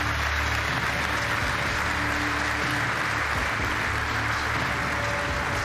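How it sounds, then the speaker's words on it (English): Audience applause at the UEFA Champions League group stage draw ceremony, a dense, steady clapping from a large crowd that carries evenly through the whole stretch. "You can give him another round of applause."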